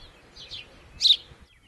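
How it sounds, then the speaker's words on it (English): A house sparrow in the Sonoran Desert gives short, bright chirps, one soft call followed by a louder one a moment later, close and clear over a quiet background. "House sparrow."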